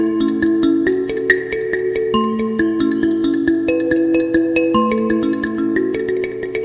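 An mbira plays a tutorial pattern, plucked metal tines ringing in a steady repeating rhythm of overlapping notes, close and clear with no talking.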